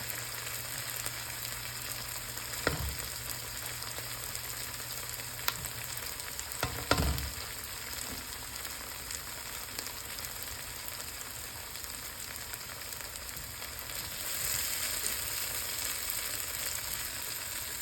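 Garlic and translucent onions frying in a pan for an okra and tomato stew, a steady low sizzle with a few scattered stirring knocks, close and even throughout, without talk.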